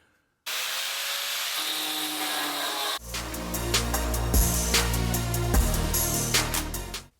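A power cutter slicing out old sheet metal beneath the floor pan of a 1969 Porsche 912, a hum starting then a harsher grinding, rasping cut with sharp bursts, loud and close.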